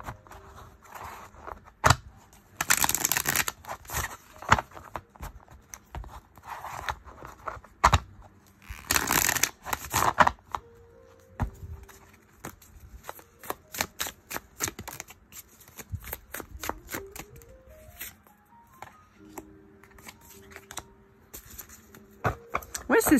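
Tarot cards being shuffled, with repeated bursts of riffling and flicking paper noise, fairly close and loud, separated by quieter gaps and a few soft taps.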